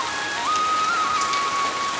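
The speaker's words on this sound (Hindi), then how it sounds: "आज बारिश पड़नी स्टार्ट हो गई है।" Rain falling outside during a monsoon-season evening, a dense steady hiss of drops on surfaces with a thin whistling tone sliding in partway through.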